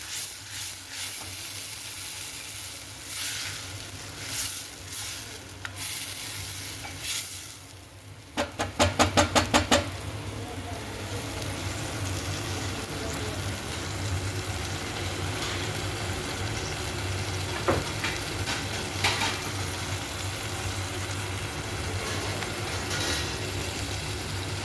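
A crushed onion, tomato and garlic gravy with salt cooks in a pan, giving a soft, steady sizzle and hiss at low volume, with a brief rattling burst partway through.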